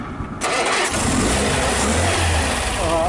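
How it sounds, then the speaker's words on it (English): A Sunbeam Alpine car's four-cylinder engine cranks and catches, then settles into a steady, close running idle with slight revving, heard alone without talk. "sounds like a 4-cylinder car now"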